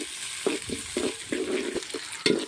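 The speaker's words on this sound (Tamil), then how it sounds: "இப்போ வெங்காய தக்காளி போட்டுக்கிட்டாச்சு. நல்லா கிண்டி விட்டுக்கணும்." Onion and tomato are stirred and sautéed in a pan for kari kulambu: a spatula scrapes in quick, uneven strokes over a soft background sizzle, close and clear, with no voices.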